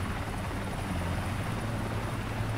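A HEMS air ambulance helicopter in GTA IV produces a loud, continuous rotor roar with a dense low thump that stays steady throughout.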